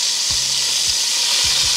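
Beef searing in a hot pan for stew, a steady loud sizzle with a few soft thuds as pieces are turned over.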